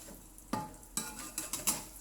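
Fuyunghai, an egg omelette, frying in oil in a home kitchen, with a faint sizzle beneath several sharp clicks and scrapes of a utensil against the pan as it is flipped.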